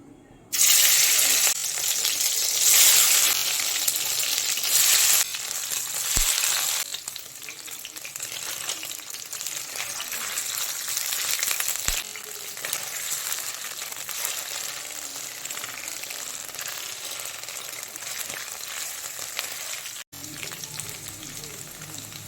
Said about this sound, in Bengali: তেলটা গরম হয়ে গেছে, এবার পনিরগুলোকে ভেজে নেব